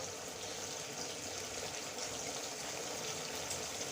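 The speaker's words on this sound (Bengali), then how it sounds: "এই হচ্ছে আমার জল মেশানো তেঁতুল জল আর দিয়ে দেবো" Tamarind water pouring steadily into a peas pickle mixture, a soft continuous gushing trickle, faint and unbroken from start to finish.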